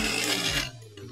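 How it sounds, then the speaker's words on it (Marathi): A kitchen mixer grinder whirs loudly as it grinds a batch with added water, then cuts off and spins down with a fading hum. "चौथा परत मिक्सरला लावायचा."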